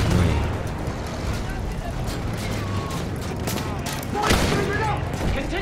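Heavy gunfire fills a Battlefield 1 campaign battle, with dense, continuous volleys of rifle and machine-gun shots and distant blasts rolling without pause at a loud, steady level.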